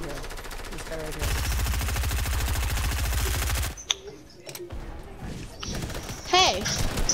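Rapid automatic gunfire in a Fortnite Team Rumble match, a dense sustained burst of shots for a few seconds that then breaks off into scattered game sounds, with a voice talking over parts of it.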